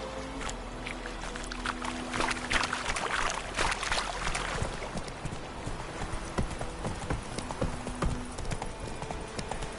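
Horse hooves clip-clop steadily in The Witcher 3, a continuous rhythmic patter of hoofbeats at a trot with a soft low rumble beneath, heard alone without talk.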